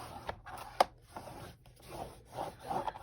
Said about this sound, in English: And then I take my burnishing tool and I press it down firmly.